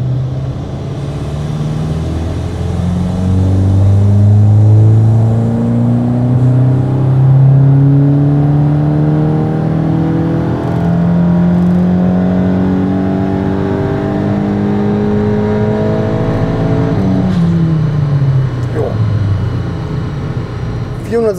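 Tuned Volkswagen Golf 8 GTI Clubsport engine, about 452 PS, loud and close on a dynamometer, revving in long rising sweeps, falling off, then climbing again in a continuous run.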